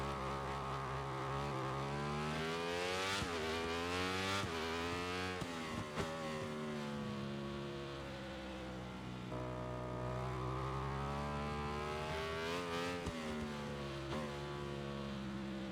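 A Ducati Panigale sport motorcycle engine in the video game MotoGP 26 revs hard and repeatedly, its whining pitch climbing and dropping with gear shifts, steady and close throughout.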